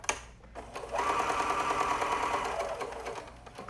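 A sewing machine runs steadily for about a second and a half while stitching a child's hoodie, its fast whirring hum starting after a brief click and then trailing off, close and fairly quiet with no talking.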